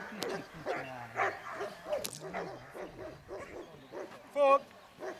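A small dog gives short yips and barks in bursts, close by, with one louder yelp near the end, while a person keeps talking encouragingly over it.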